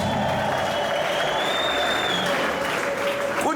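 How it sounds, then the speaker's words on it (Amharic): Church congregation applauding, ululating, shouting and whistling in praise, a dense continuous wash of clapping and cheers with a long whistle sustained through the middle, loud and close throughout. "እልልታ፣ ጭብጨባ፣ ጩኸት፣ ፉጨት"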